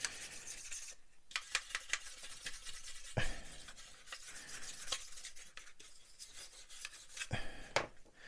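A dry toothbrush scrubs over the fuselage of a 1/35 scale Spitfire Mk Vb model, making soft, close, rhythmic bristle rasping in short irregular strokes.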